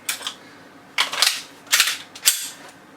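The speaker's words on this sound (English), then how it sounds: "I just did 3 reloads" Semi-automatic handgun magazine reloads: three close, sharp clusters of metallic clacks and rattles, each a brief burst of clicks separated by short pauses, with no talking.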